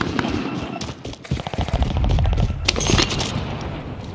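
Video game gunfire crackles in quick automatic bursts, with a louder, denser volley in the middle and booming low thumps beneath, close up and loud.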